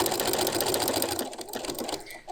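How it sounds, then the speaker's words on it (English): Sewing machine stitching quilt binding, a loud, steady mechanical whirr with fast rhythmic chatter that slows and stops near the end. "start sewing again, just removing the quilt clips as I go"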